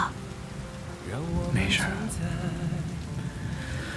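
Heavy rain falls in a steady wash behind a brief exchange between two people, with the downpour continuing evenly under their voices.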